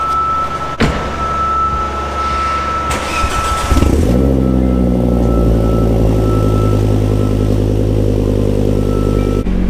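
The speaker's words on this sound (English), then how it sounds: "why not get in a cold start?" A Volvo V70R five-cylinder engine cold-starts: a sharp cranking burst about four seconds in catches into a loud, uneven high idle that stays steady and close, with nobody speaking.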